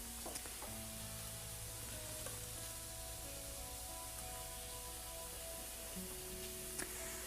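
Cooked orzo is poured into a small handheld strainer in a home kitchen, with steady hissing and rushing water alongside a low, constant hum, a few faint clinks, and one sharper knock near the end.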